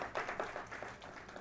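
Audience clapping at a speech event on Ayodhya, a steady patter of many hands applauding at moderate volume with no speech over it.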